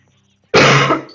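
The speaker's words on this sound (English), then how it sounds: "My coughing is, you know, kind of subsided mostly, but not completely." A single loud, close cough bursts out after a second of near silence, followed by the start of another cough at the very end.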